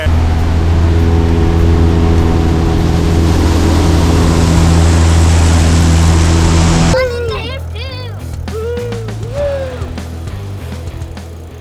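Small STOL aircraft with a turbo-normalized engine taking off at a STOL competition, a loud steady engine drone for about seven seconds that then drops away, leaving fainter sound with a voice speaking.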